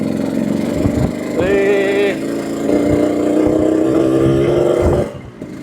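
A Yamaha RX King two-stroke motorcycle rumbles and revs close by, its engine and exhaust note rising and falling steadily before dropping off near the end, with a brief exclamation over it.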